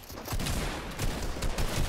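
Rapid gunfire from the video game Fortnite, a dense fusillade of overlapping shots in close succession, loud and near throughout with no talk.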